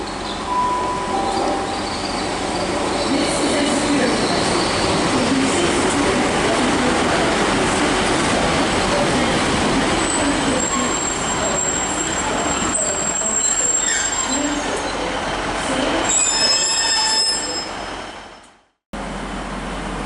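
A Northern Class 150 train at Stockport station, its wheels squealing steadily with high metallic whines over a loud rumbling roll, close by and sustained for most of the pass before the noise cuts off abruptly.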